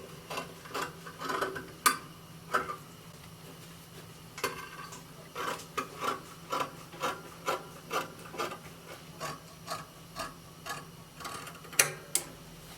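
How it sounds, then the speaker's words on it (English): Scissors cutting through fabric along the back neckline of a bubu dress, a steady run of crisp, evenly spaced snips close to the mic, roughly one cut every half second, with no one talking. "I'm cutting out the back neckline."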